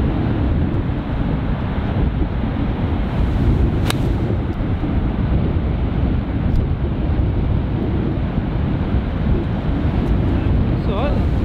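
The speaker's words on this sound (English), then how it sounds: "Oh, there's so much wind out there." Strong, gusting wind buffets the microphone on a links golf course at Royal North Devon, making a loud, constant rumbling roar that masks most other sounds. Faint voices can be heard beneath it.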